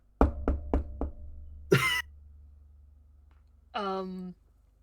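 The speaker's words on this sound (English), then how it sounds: "you hear a knock at your door" Four sharp knocks rap on a door in a quick, evenly spaced series, close and loud, followed by short bursts of a voice in an otherwise quiet room.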